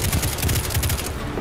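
Automatic weapon fire in the Destiny 2 video game, a loud, continuous rattle of rapid shots across the whole moment with no talking.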